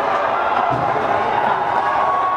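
Home crowd roars steadily at a high school senior night game right after the Corsairs score the tying goal, a dense, continuous wash of cheering with faint talk mixed in.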